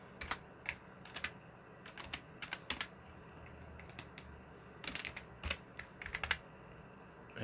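Keys clatter on a computer keyboard at close range, quiet irregular clusters of clicks with pauses between bursts, including a press of the caps key, with no voices.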